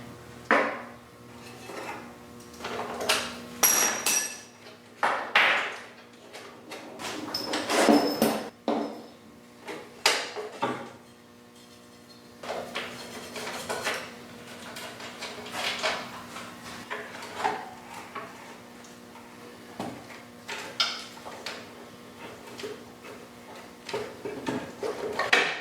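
A Honda CT70 motorcycle fuel tank being worked free and slid up and out, heard as scattered metallic clanks, knocks and scraping bumps at close range, irregular and separated by quieter gaps, with no voices.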